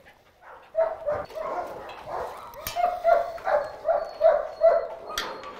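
Police service dog in an outdoor enclosure after exhausting training, giving a series of rhythmic yelping barks and whimpers at moderate distance, fairly faint, with no talking.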